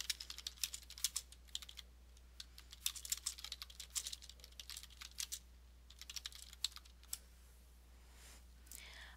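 Someone types on a computer keyboard in quiet, fast, irregular bursts of clicking, with short pauses and a low steady hum behind it.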